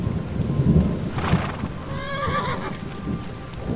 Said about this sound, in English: boy, is it really raining out here